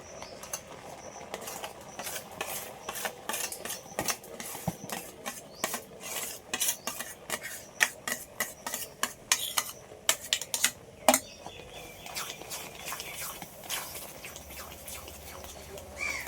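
Ripe mango being mixed into chhana for sandesh with a utensil in a bowl, giving irregular clinks, taps and scrapes close by, some sharp and loud, over a quiet room with faint chirps in the background.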